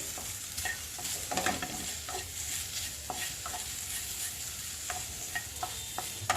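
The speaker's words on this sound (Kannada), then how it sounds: "ಕಟ್ ಮಾಡಿಟ್ಕೊಂಡಿರುವಂಥ ಬೆಂಡೆಕಾಯಿನ ಎಣ್ಣೆ ಹಾಕಿಬಿಟ್ಟು ಈ ಥರ ಫ್ರೈ ಮಾಡ್ಕೋಬೇಕು" Cut okra fries in oil in a pan, a dense continuous sizzle with occasional stirring scrapes, close and steady throughout.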